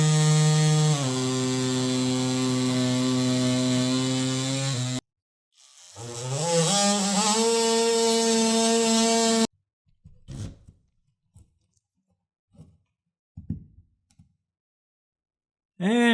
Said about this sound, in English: So I usually like to kind of skim the surface and just enough to get through the drywall.